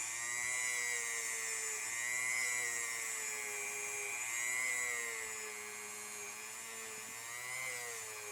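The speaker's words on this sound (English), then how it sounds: "Now it is time for the Dremel." A Dremel rotary tool polishes Ruger 10/22 trigger parts during action and trigger work, giving a steady, close, high-pitched whine whose pitch sags and recovers slightly as the bit meets the metal, with no talking.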